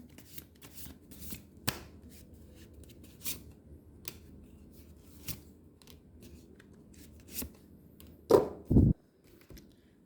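Tarot cards are shuffled by hand in a quiet room, with soft papery riffles and slaps repeating irregularly, then a few louder flicks and taps near the end.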